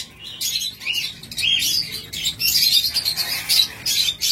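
Caged Australian doves and other pet birds chirp and call in bursts, a busy mix of tweets and squawks with a faint wing flutter, fairly loud and close.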